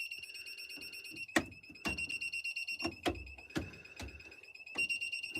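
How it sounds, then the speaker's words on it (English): A steady, high-pitched electronic beeping tone from a device being tested on a backhoe runs throughout, broken up by several sharp, loud clanks and knocks at irregular intervals. "we got 2 beeps out of it that time"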